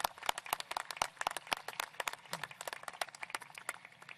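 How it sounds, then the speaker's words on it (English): Graduation audience at Gibbs High School applauds the graduates' families, with scattered, fairly close individual claps in an uneven rhythm rather than a dense roar, fairly faint and without talk. "If you'll turn and give those family members a round of applause for being here."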